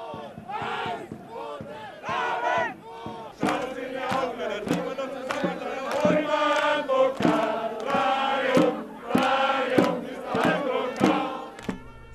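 Around 300 Vilsbiburg volleyball fans outside the Gary Weber stadium chant loudly in unison, with rhythmic rising cheers that grow fuller and denser after a few seconds and carry on near and lively.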